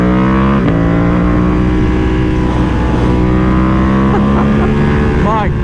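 Ducati Panigale V2 motorcycle engine running steadily and loud throughout with rising and falling revs, wind rush and a rev swell near the end.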